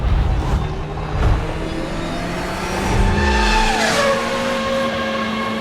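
Ferrari Challenge race cars in the iRacing simulator at night, with engines droning close by and pitch sweeps as gears shift and cars pass. Continuous racing engine noise with no talk.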